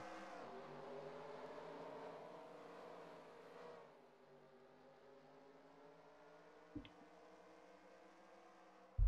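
Race cars roar past at the restart of the Sundrop 250, a loud engine drone with harmonic whine that swells for a few seconds then settles into a steadier distant hum, with a couple of sharp knocks near the end.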